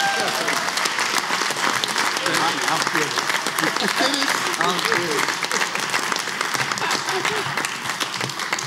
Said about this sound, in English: So let's give Aaron Hicks a big round of applause.